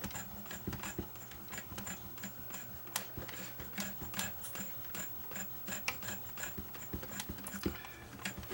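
The tape-threading mechanism of a JVC HR-FS1 VCR runs its guides up into position with a steady stream of small clicks, ticks and motor whirring, close and moderately quiet, with no talking.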